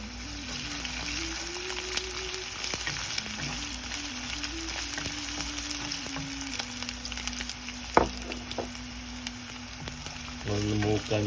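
Garlic, ginger and green chillies fry in a pan of oil for a pickle, a steady close sizzle running throughout with a sharp clink near the middle and a busier rattle toward the end, no talk.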